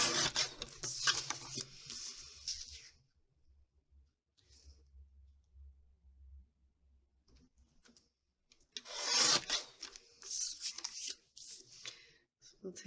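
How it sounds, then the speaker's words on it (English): Close, scratchy cutting and rubbing as a photo is trimmed down for a paper craft layout, two bursts of snipping and paper friction separated by a long near-silent gap with faint low hum. "So let's trim our photo down a little bit."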